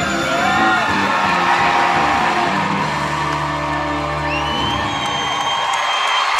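A crowd at a gymnastics meet whoops and cheers loudly and steadily, a dense roar of yells with a rising call near the end.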